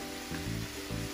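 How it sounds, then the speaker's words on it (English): Beef seasoned with salt and pepper sizzling in a pan, a soft, steady fry with gentle stirring, heard briefly and close. "and stir it"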